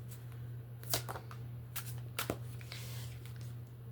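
Tarot cards are handled and drawn from a deck in a few soft, quiet shuffling and flicking bursts over a steady low hum in a quiet room.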